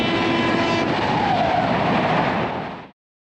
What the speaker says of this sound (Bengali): 100+ স্পিডে কিন্তু এক টানা চলছে ট্রেন।